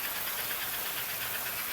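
A post-war American Flyer 4-6-2 model steam locomotive runs with a steady airy hiss and a soft rhythmic chuffing beneath it, fairly close and even throughout, with no talking.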